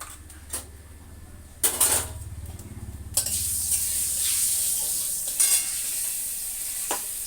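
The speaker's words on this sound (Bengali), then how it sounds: "কড়াই গরম হয়ে গেছে, জিরে ফোড়ন দিয়ে দিচ্ছি" Cumin seeds tempering in hot oil in a wok, a loud bright crackling sizzle that swells after a few stirring scrapes and metal clanks, close up and continuous with no voices.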